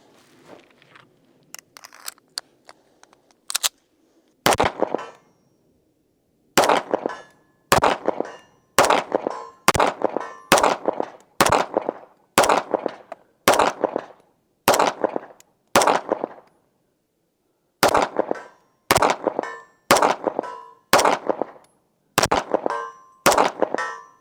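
Shots from an Infinity pistol ring out one after another at 100 yards, each sharp crack followed by a metallic clang from a steel target, about two dozen in loose, uneven strings with pauses.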